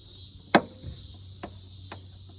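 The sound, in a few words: flathead screwdriver prying out plastic retaining clip on Toyota RAV4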